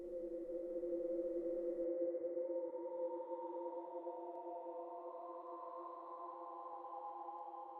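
A soft, sustained OP-1 Field synth pad holds layered tones that shift gently partway through, washed in reverb and fading on a long tail, alone without voices.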